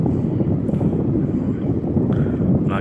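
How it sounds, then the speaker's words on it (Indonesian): The cargo ship KM Bahtera Sukses sits at anchor waiting in the queue to unload, giving off a steady low rumble with wind noise and faint water wash, continuous and close. "Kapal Bahtera Sukses."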